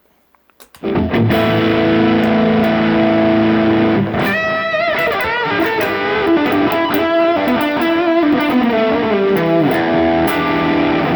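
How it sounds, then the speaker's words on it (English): Overdriven electric guitar, a PRS Custom 24 35th Anniversary through a TS-808 overdrive pedal, playing sustained distorted chords, then moving into a busier riff with quick picked notes, loud and continuous after a brief quiet start. "add a little distortion, I'm going to add a TS-808."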